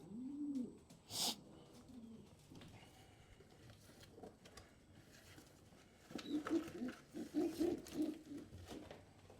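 Racing pigeons coo while being handled, with low throaty burbling calls early on, then a denser run of repeated coos near the end, plus a brief rustle of wings or feathers. No one speaks.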